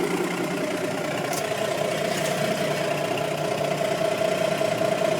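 A 1984 White Xpediter 2 truck engine idles steadily, a close, continuous mechanical rumble with a faint knocking texture and a couple of brief clicks, no talking.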